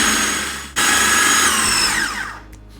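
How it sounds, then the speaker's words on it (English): A blender runs loud and steady, chopping parsley, spices and other falafel ingredients, with a brief cut-out near the start before the motor whirs on continuously and eases off toward the end. "it's easier for it to get into the blender and start chopping up more"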